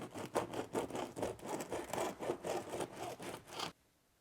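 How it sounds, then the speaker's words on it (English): A big serrated bread knife saws into a crusty sourdough loaf, about a dozen quick, even back-and-forth rasping strokes close up, ending suddenly in near silence. "I'm gonna cut right into the middle with this big old bread knife."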